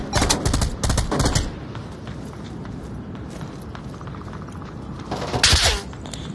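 Gunfire in the video game Onward comes in rapid bursts at the start and again near the end, with quieter movement and rustling in between.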